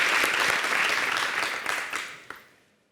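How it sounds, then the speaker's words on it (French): Audience applause at an end-of-season TV show gala, a full burst of many hands clapping that holds steady, then thins with a last few claps and fades to silence. "On peut s'applaudir."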